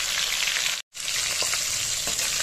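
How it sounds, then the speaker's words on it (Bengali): Fish heads sizzle loudly in hot mustard oil, a dense steady crackle with faint stirring scrapes, broken by a brief silent gap just before one second. "এবার বাকি মাথাগুলো যেগুলো ছিল সেগুলো আমি দিয়ে দিলাম।"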